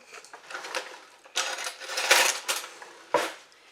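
A knife cuts through a freshly baked puff pastry rose, giving crisp, flaky crackles and crunches in a few separate bursts, each with a sharp snap, heard up close in a quiet kitchen.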